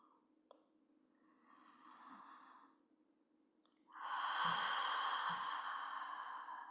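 Slow deep breathing during a restorative yoga flow, a soft inhale followed by a quieter pause and then a long, louder breathy exhale, close and alone without talk.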